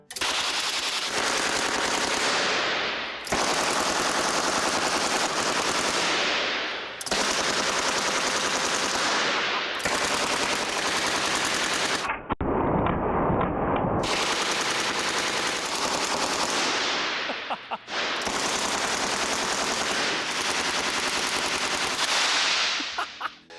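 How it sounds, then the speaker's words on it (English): Sustained bursts of loud gas-powered prop machine-gun fire in long rapid volleys, separated by brief pauses, with one harsher hissing blast midway; no talking. "by adjusting the gas pressure, you can make the guns sound exactly like you want them to"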